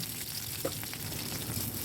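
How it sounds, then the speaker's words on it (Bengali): Chopped onion and green chilli hitting hot oil with panch phoron, a dense, steady sizzle and crackle with a small splash of frying, close and continuous. "তাতে পেঁয়াজ আর কাঁচা লঙ্কাটা দিয়ে দিলাম"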